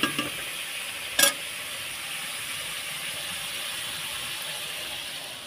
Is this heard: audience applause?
no